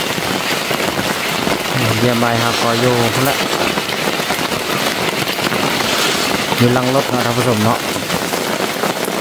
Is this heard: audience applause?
no